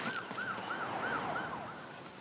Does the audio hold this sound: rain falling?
no